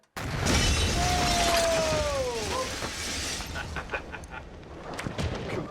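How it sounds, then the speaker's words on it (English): A briefcase bomb detonates inside a mock wartime situation room, a sharp loud blast bursting out at once and then a long rumbling, crackling decay with scattered debris ticks trailing off. "Situation room control explosion in 3, 2, 1."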